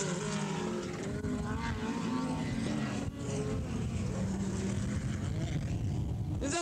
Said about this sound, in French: Lamers prend un peu de distance dans cette première manche, toujours suivi de Job Fassbinder sur son Alpine